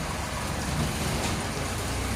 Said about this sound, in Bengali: বৃষ্টি পড়ছে, তো আপনারা দেখেন কত সুন্দর লাগছে আজকে বৃষ্টি পড়ছে বলে।